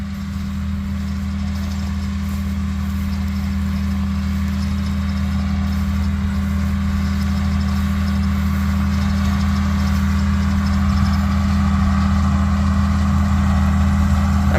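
A bale processor spins a hay bale and throws it off the side while spreading hay for soil armour, its engine droning loud and steady under a continuous rumbling churn for the whole stretch.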